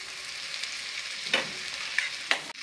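A bajri pearl-millet masala paratha cooks in oil on a hot pan, producing a continuous close hiss with a few brief sharp crackles and ticks.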